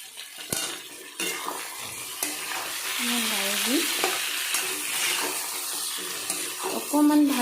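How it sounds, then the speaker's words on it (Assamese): Chicken pieces frying in a pan with onion, ginger and garlic, steady sizzle under repeated scrapes and clinks of a spatula stirring against the metal, close and fairly loud. "অকণমান ভাজি ল'ম মাংসখিনি।"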